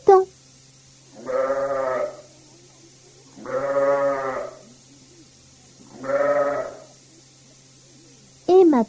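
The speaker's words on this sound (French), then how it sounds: "Le mouton." Three separate bleats from a sheep, evenly spaced and each about a second long, wavering and clear at close range, with short bursts of voice at the start and end over a low hum.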